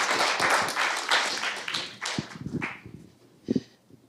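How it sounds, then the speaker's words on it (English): Conference audience clapping, loud and dense at first, then thinning into scattered individual claps that trail off, with a couple of last isolated claps near the end. "Okay, clap please."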